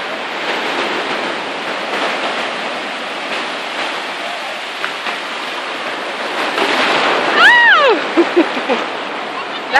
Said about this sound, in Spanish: Ahí viene una ola, ahí viene una.